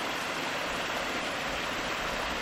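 Steady hiss of a small waterfall spilling down a mountainside in northwest Montana in spring, dense and even throughout, close and unvarying, with no talking.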